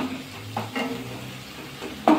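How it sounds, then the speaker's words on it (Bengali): Red amaranth greens (lal shak) being stirred in a pan, a few soft scraping strokes over low sizzling, ending with a sharper clatter of the spoon against the pan. "একটু নাড়াচাড়া করে নেব"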